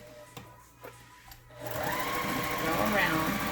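Sewing machine top stitching a fabric face mask, its steady motorized whir starting after a short pause with light handling sounds and continuing loud and close to the end.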